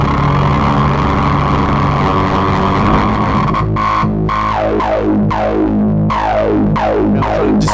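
A Moog synthesizer, a Phatty or Minitaur, plays a droning tone while a fast LFO sweeps its filter. It begins as a thick buzzy sustain, then breaks into rapid, bubbly wobbles that keep repeating.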